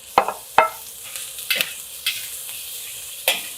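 Garlic, carrots and shiitake mushrooms are tossed in oil in a wok, giving several sharp stirring clatters and scrapes over a steady low sizzle, with no talking.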